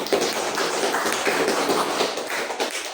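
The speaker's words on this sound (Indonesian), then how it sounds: "tolong diberikan aplaus pada teman-teman" A classroom claps for students, a dense patter of many hands that runs for about three seconds at moderate loudness, with no speech over it.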